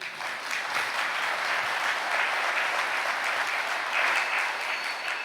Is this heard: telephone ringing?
no